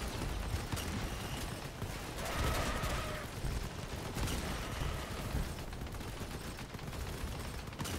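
Dense, continuous gunfire from a vehicle combat video game with energy weapons, a steady loud barrage of shots and mechanical clatter filling the whole stretch without clear pauses.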